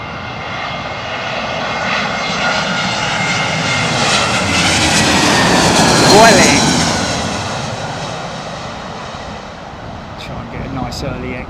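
A fixed-wing airliner rolls out after landing and taxis off the runway at an airport, its engines roaring steadily and loud close by with a broad rumble that swells in the middle and eases toward the end, with faint voices underneath.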